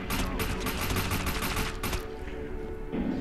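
Dense rapid automatic gunfire from the video game Defiance, a loud sustained burst of shots for about two seconds, then a quieter stretch with lingering game noise and a few softer hits.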